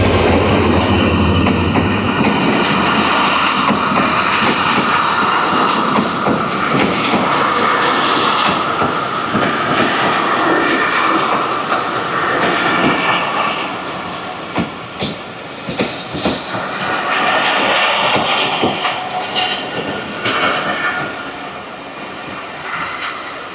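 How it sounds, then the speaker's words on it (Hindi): Mehran Express, led by HGMU 30R locomotive 8220, rolls through Jhimpir station with a loud, continuous rumble of railcars, wheel clatter and squealing wheels, and a few sharp clicks near the end. "HGMU 30R 8220 लीड कर रहा है 150 डाउन मेहरान एक्सप्रेस को।"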